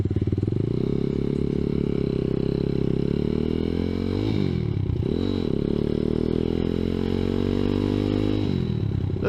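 A ZS190 Grom clone motorcycle hums along on a ride, its engine droning steadily up close with small shifts in pitch as the throttle eases and picks back up. A wind-buffeted rumble runs throughout.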